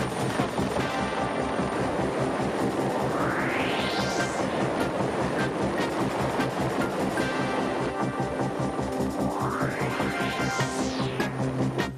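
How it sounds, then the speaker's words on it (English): A rescue helicopter starts up with a steady rhythmic rotor chop, and its engine whine climbs in pitch twice over the dull, droning background. "When an emergency comes in, the crew starts the helicopter"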